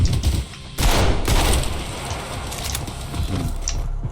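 Gunfire from the first-person shooter game Trepang2, a dense burst of rapid shots followed by a sustained barrage of loud, close-sounding fire with echoing booms, heard without any talk.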